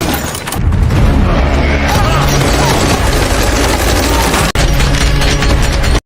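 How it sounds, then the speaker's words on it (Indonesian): Tommy Gun fire in a film scene, a dense, loud, continuous burst of rapid gunshots layered with booming impacts and chaotic noise, briefly cutting out near the end. "sekitar 17 tentara habis disikat oleh Atami menggunakan Tommy Gun sebagai senjatanya"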